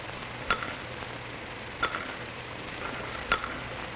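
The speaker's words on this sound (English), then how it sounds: "I can stir my tea so as to cause a circular motion" A spoon stirring tea in a cup, giving three soft, evenly spaced clinks against the rim over a quiet, faintly hissing background.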